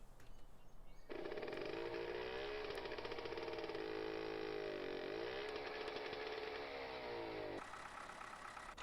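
A beaten-up tractor engine in Farming Simulator 15 cranks briefly, then catches into a loud buzzing, rattling run with wavering pitch for several seconds before cutting to a different idle.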